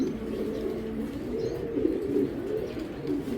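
Belgian racing pigeons cooing close by, soft low murmuring coos rolling continuously with a few faint higher chirps over the top.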